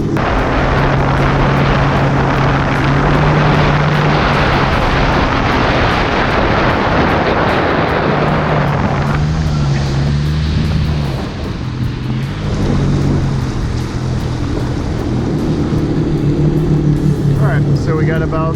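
A jet ski runs across open water at about 20 mph, its engine a loud continuous drone blended with rushing water and spray noise, close and unbroken throughout.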